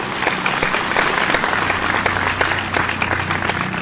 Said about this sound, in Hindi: एक बार अपने आप के लिए भी जोरदार तालियां बजा करके मुझे बताएं